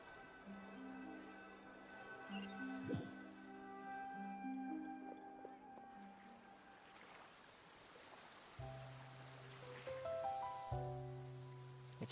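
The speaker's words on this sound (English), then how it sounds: "It's raining again." Rain falling in the video game Genshin Impact, a soft steady patter beneath sustained musical tones that shift and swell, faint and continuous with no voices.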